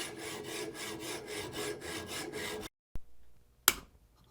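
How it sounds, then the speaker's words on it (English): A hacksaw cuts through a hunting climbing stick in quick, rhythmic back-and-forth strokes, close and fairly quiet, then stops, followed by a couple of sharp knocks. "Nothing fancy, just a hacksaw."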